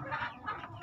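A White King rooster clucks softly in a few low, rounded notes, fairly near but quiet, over faint background noise.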